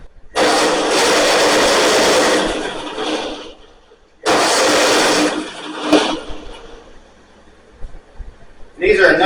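A Ford 9N tractor engine, under restoration after ignition trouble, is turned over by the starter in two long, loud, close cranking bursts with a short pause between, then quieter rattling follows.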